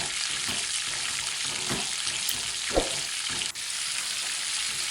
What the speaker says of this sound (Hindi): देखिए इस तरह नाल इनकी 2 मिनट भुनाई हो जाएगी, साथ इनको इस तरह हम मैश कर देंगे।